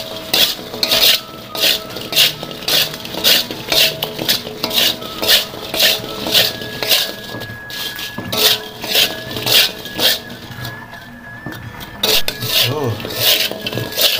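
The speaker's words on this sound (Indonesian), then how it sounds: "Oke, aduk-aduk sampai tercampur rata ya semua bumbunya." Ingredients and spices are stirred in a pan with a utensil, making loud, rhythmic scraping strokes about twice a second over a faint sizzle, with occasional metallic clinks.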